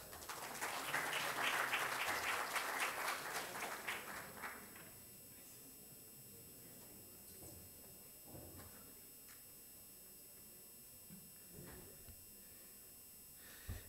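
A seminar audience gives a burst of clapping that swells for a few seconds, then fades into quiet room noise with scattered shuffles and faint murmurs.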